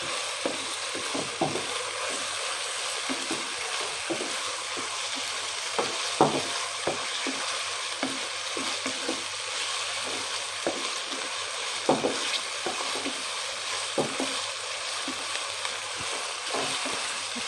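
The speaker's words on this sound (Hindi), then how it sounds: "इसको पिंक और वाइट करने तक हमने इसको भूनना है अच्छे से।" Meat for a Chinese-style chicken biryani stir-fries in a hot pan, with a steady sizzle and repeated scraping stir strokes at an irregular rhythm, close and alone without talk.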